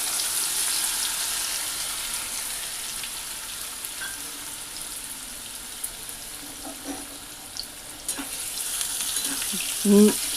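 Boiled potato pieces and crushed green cardamom fry in a pan with a steady, moderate sizzle, and a few scrapes and clinks of stirring come through near the end; nobody speaks.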